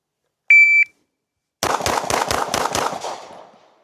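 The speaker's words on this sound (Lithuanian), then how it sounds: "po signalo 6 greiti šūviai į taikinį" A shot timer gives a short electronic beep, and after a pause six rapid pistol shots ring out at a target on a shooting range, evenly spaced and loud, the last trailing into echo.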